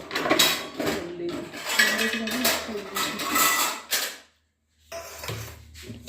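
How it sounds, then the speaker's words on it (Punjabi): Kitchen dishes and utensils cleared and handled at home, with steady clatter of pots, plates and cutlery close by. Talk runs over it, then a brief silence, and the clatter resumes. "ਇਹ ਭਾਂਡੇ ਢਿੰਡੇ ਵਿਹਲੇ ਕਰੀਏ"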